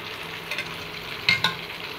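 Okra frying in a pan for pabda fish curry gives a soft continuous sizzle, with a few quick scraping stirs of the spoon against the pan close by.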